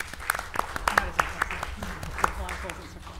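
An audience applauds after a speaker introduction at a university political science event, a brief burst of scattered claps, fairly close, with a voice speaking over it.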